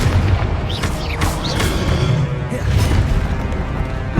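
Confringo fire spell explosions in Hogwarts Legacy, loud and close, heavy booming blasts with whooshing streaks over a constant deep rumble of combat.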